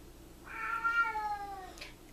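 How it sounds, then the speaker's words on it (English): A pet cat gives a single drawn-out meow that rises and then slides down, fairly close but soft, against quiet room background. "You occasionally get my cat too."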